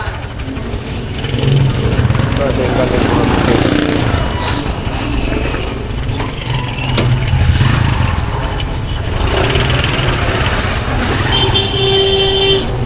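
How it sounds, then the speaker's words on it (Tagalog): Dense afternoon road traffic of cars and motorcycles rumbles on as a loud, continuous roar close by, with scattered short horn toots and a brief air-brake hiss cutting through. "Traffic talaga dito paghapon."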